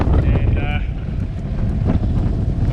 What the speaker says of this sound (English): This gust hitting us now probably 35-40 knots,